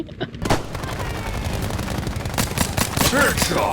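Gunfire rattles in Battlefield V, dense overlapping shots and rapid bursts after a brief quiet start, loud and close, with sharp cracks later on and a voice heard briefly amid the shooting.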